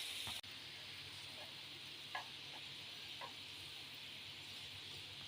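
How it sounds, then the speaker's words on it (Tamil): Spicy chicken sizzling in a pan with a constant, soft, close frying hiss, a sharp knock near the start and a few light scrapes as it is stirred, with no talking. "இது ஒரு 15 நிமிஷமாக நான் இந்த மாதிரி கிளறி விட்டுட்டேன்."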